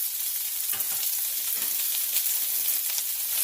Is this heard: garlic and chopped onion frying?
yes